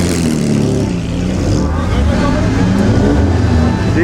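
A group of Jaguar cars rolls into the Mille Miglia classic road race, their engines rising and falling in pitch as they pass close by amid general crowd noise.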